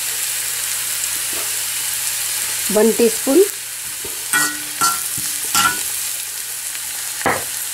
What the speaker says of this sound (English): Saute your celery in ghee or oil, 1 teaspoon oil.